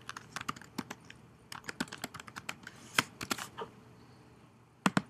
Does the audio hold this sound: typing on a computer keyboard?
yes